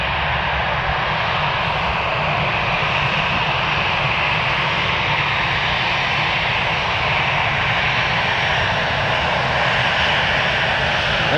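A landing aircraft roars steadily and loudly on runway 25R at a freezing Frankfurt Airport, its broad engine noise holding nearly constant.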